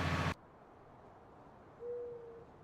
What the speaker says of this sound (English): I think it's like an owl I'm hearing in my ear.